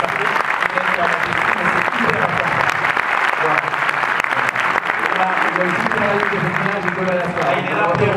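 Sustained, dense applause from an audience at a film presentation fills the room, loud and close, with voices carrying over the clapping throughout.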